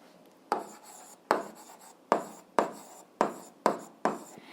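Pen writing on paper while working an algebra problem, seven rhythmic strokes or word bursts, close and fairly quiet, each starting sharply and trailing off, with no talking.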